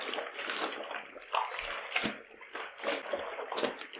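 A white towel is scrubbed and swished by hand in a basin of water, giving steady close sloshing and splashing with irregular bursts of wet rubbing.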